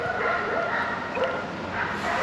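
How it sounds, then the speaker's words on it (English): Dogs barking in the distance outdoors on a trail at Powell Butte, faint yips and woofs over a steady ambient background. "And the barking dogs."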